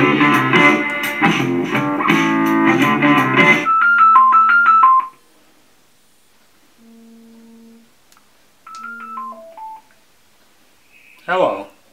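A phone call rings through a wet, still-playing Nuu Riptide waterproof Bluetooth speaker, breaking into the music with short electronic tone sequences and ring beeps separated by pauses.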